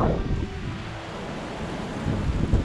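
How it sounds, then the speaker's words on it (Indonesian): Strong wind blows in Mecca on an overcast afternoon, a steady broadband roar with buffeting gusts against the microphone and no voices. "angin kencang"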